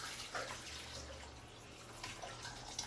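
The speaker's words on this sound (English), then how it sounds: "And strain it so I just have broth." Chicken broth strained through cheesecloth, a soft, steady trickle of liquid running throughout with faint splashy surges near the start and end, close by, with a low background hum and no talking.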